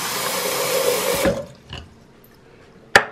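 Water pours and splashes steadily into a sink while dirty makeup brushes are washed, then stops abruptly and is followed by a couple of short knocks and a sharp clack.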